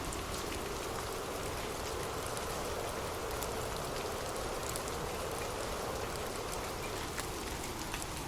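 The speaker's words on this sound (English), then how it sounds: "drift off to sleep with rain" Steady rain falls in a dense, even hiss of many drops, constant and moderately soft throughout with no voices.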